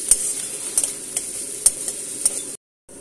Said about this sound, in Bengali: কাঁচা লঙ্কা কুচি দিয়ে এবার ভালো করে কষিয়ে নেব আমরা।